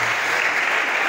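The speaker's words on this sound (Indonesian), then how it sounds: "Tepuk tangan untuk Ustadz Gias yang sudah invite kita." An audience of young male Islamic boarding school students claps at an opening session, a brief, loud, dense burst of applause with no voices over it.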